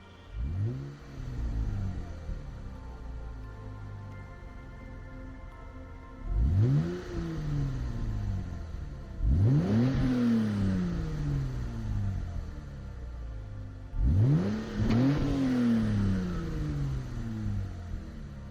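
A front-wheel-drive 1997 Mitsubishi FTO GP Version R in Gran Turismo 7 revs loudly several times, each rise climbing sharply from a low engine note and falling back between bursts.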